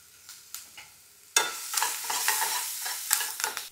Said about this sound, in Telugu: చాలా హై హీట్లో ఫ్రై చేసుకోవాలి ఇవన్నీ.